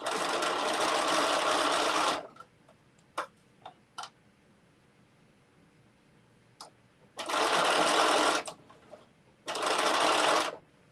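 A sewing machine runs in three bursts while stitching the brim of a bucket hat, with light ticks and clicks of handling between the runs, close and fairly quiet.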